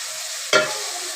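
Ground spice paste hits hot oil in a pan for a Bengali chapila fish curry, with a sudden loud sizzling burst midway over a steady hiss of frying.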